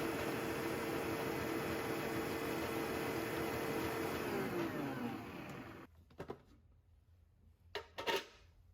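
An electric hand mixer beats eggs into Amish applesauce bread batter, a steady loud whir for about six seconds before it switches off, leaving faint kitchen clatter and a couple of brief knocks.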